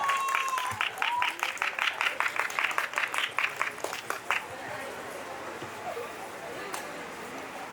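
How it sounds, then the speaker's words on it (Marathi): A crowd at a first birthday party claps loudly in a rapid, steady burst for about four seconds, then the applause cuts off, leaving a quiet murmur of room noise. "आईसाठी जरा जोरदार टाळ्या असते पाहिजे, जोरदार टाळ्या"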